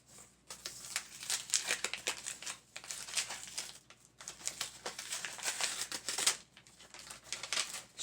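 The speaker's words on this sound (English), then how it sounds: "Struggled to open this envelope." A paper envelope is torn and crinkled open, with a busy run of close, crisp rustling, ripping and crumpling in bursts that pause briefly before starting again.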